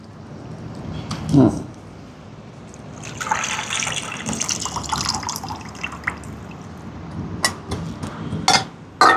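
A hand squeezes tamarind in a bowl of water for a Jaffna prawn curry, producing close squelching, sloshing and dripping with intermittent splashes, while someone talks over it.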